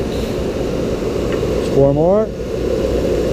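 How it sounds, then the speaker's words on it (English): A thickness planer runs while several wooden boards are gang-planed together, giving a loud, steady mechanical drone throughout. A voice speaks briefly over the machine noise. "this is called gang planing. It's how you make all your parts exactly the same width and thickness."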